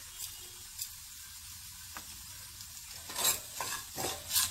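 Garlic tempering for Udupi-style raw mango rasam, with a soft, faint sizzle in oil broken by a few brief stirring scrapes that grow louder and more frequent toward the end.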